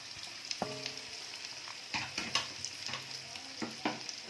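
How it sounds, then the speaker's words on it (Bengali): Carrot and onion sizzle in a hot pan for fried rice, with a steady frying hiss under clinking spatula stirs and scrapes that repeat irregularly, close by with no talk. "দিয়ে ভালো করে নেড়ে চেড়ে নিচ্ছি।"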